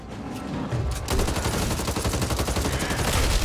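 Rapid, sustained automatic gunfire from a video game: dense, loud, overlapping bursts that swell after a short lead-in and continue without a break.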